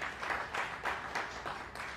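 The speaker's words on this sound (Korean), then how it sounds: "계시지 않지만 박수로 격려해 드리겠습니다." Audience applause at a Korean textbook forum reading event, a steady wash of many hands clapping in rolling bursts over two seconds, moderately distant and fairly quiet, with no voices.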